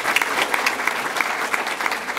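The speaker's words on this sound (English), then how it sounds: "Round of applause for Superintendent." Steady, full applause from an audience at a public forum on Chicago's homicide crisis, many hands clapping evenly and close for the whole stretch with no voices on top.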